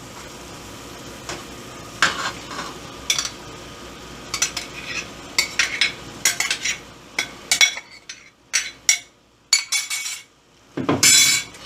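Rice with cabbage and green peas being stirred in a cooking pan, giving scattered scraping and clinking strokes of a utensil against the pan at irregular intervals, fairly close, with a soft background hiss and no talk.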